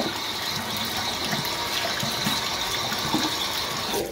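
Tap water runs steadily into a sink while a face is rinsed during makeup removal, a continuous close splashing hiss with small sloshing changes and no talking.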